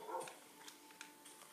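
Minecraft dog yipping and whimpering in short faint bursts, a few quick high barks spread over a quiet game background.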